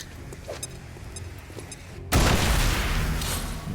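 An explosion in the video game XCOM hits as a sudden loud boom with a sharp crack, then a dense, rumbling roar that holds steady and fades only slightly, following a stretch of quieter game sounds.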